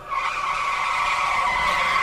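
A race car skids up a driveway, a loud sustained screech of squealing tires layered over engine roar, close and continuous for about two seconds.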